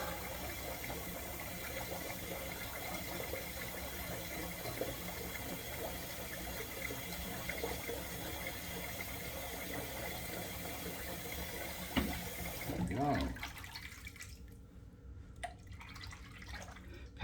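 A sink filling from a running tap: steady, broad rushing water, close and continuous, that cuts off abruptly near the end, leaving faint drips and quiet room tone.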